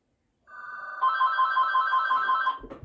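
A landline telephone rings indoors, one clear electronic ring burst of about two seconds with a rapid warbling pulse, loud and close, then cut off by a brief clatter.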